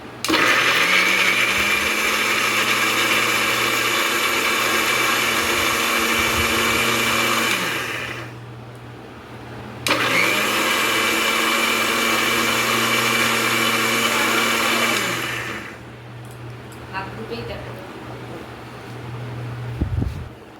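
Electric blender grinding a small onion into paste: a loud steady motor whine runs for about eight seconds, stops briefly, then runs again for about five seconds before cutting off, leaving light handling clatter.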